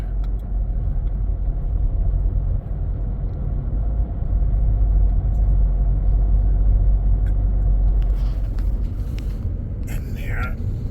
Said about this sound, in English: I'm going up a slight hill, and it is misfiring continuously